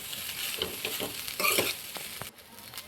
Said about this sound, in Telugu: అలాగే సోయా సాస్ వేసుకొని ఇప్పుడు అన్నిటిని మొత్తం కలుపుకుందాం.